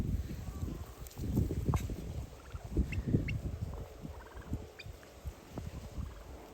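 Kholmogory geese honk and gabble nearby in a restless cluster, with scattered calls and soft rustling or footsteps on the ground.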